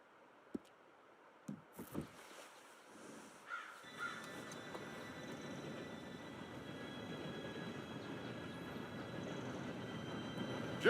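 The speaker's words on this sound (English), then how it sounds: "Train should be here any minute now" An approaching train in the Red Dead Redemption 2 western game grows from near silence into a steady broadband rumble that swells and holds to the end, with a few short knocks and a crow-like caw early on.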